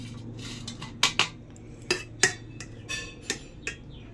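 A spoon scrapes and clinks against a metal pot as cooked rice is served onto a plate at home, several sharp knocks coming in an uneven rhythm over a low steady hum, up close and without talk.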